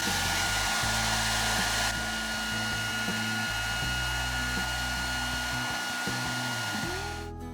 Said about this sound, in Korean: 이렇게 드라이기로 충분히 열을 가해준 다음